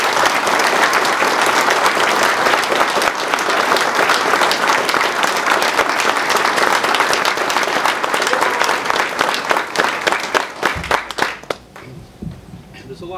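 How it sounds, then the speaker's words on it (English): A ceremony audience claps for Mark, a police chief at his badge pinning, in loud, sustained applause that fills the room for about ten seconds before thinning into scattered final claps. "with a round of applause for Mark."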